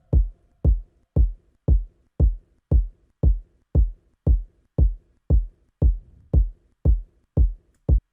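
Kick drum pattern from an FL Studio remake of a song: fourteen solo booming kick hits at a steady pace of roughly two per second, each punchy and deep, with no other instruments.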